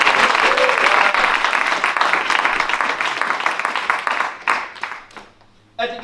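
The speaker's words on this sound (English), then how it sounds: "A wonderful, wonderful round of applause for Mr. Nick Masters." Audience applause fills a jazz tribute concert for Martin Luther King, loud and dense at first, then thinning and fading out, with a brief burst of clapping near the end.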